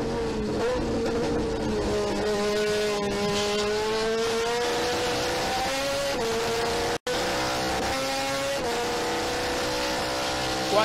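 Touring car race engines roaring and revving at high pitch through a race in Rosario, with a sustained loud engine note that shifts as cars pass, plus brief tire noise, and no talk.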